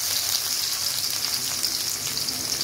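Bay leaves hitting hot oil in a pan alongside onions for desi chicken, a dense steady crackling sizzle, close and fairly loud, continuing evenly with no speech.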